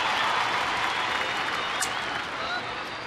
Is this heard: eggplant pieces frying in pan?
no